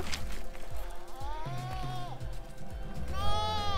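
Sheep bleat repeatedly during a countryside walk through a flock in the north of England near the Scottish border, several wavering calls near and far layered over footsteps and low outdoor background.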